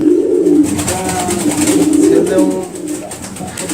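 Bombay pigeons coo steadily in a loose, rolling rhythm, close and loud, with a few overlapping calls and no talk over them.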